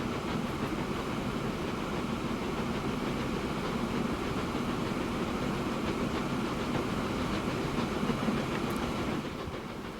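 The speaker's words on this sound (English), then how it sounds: "that's an outside cylinder locomotive" Outside-cylinder steam locomotive in Transport Fever 2 running steadily, a continuous dense rumble and rail clatter, moderately loud and unbroken throughout.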